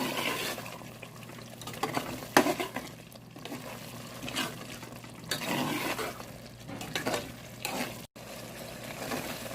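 Taro root masala sizzling in a frying pan as a spoon stirs and scrapes through it, steady close frying hiss broken by repeated mixing strokes and occasional clinks against the pan.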